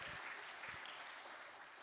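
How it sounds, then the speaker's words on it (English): Brief, steady applause from the audience at a national grand final event for the production team, a continuous wash of clapping at moderate volume. "Give them a big round of applause for doing all the techie things that we're not capable of doing"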